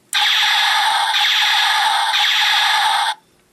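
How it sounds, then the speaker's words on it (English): Electronic laser-gun effect from a knockoff oversized Dark of the Moon Megatron toy, one loud continuous three-second burst of buzzy, warbling zaps that cuts off abruptly into quiet. "Some more laser gun sound effects."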